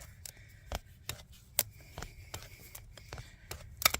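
Worn farrier's hoof nippers bite through a horse's hoof sole and toe, giving a series of sharp, crisp snips at irregular intervals, close and fairly quiet, with faint handling noise between cuts.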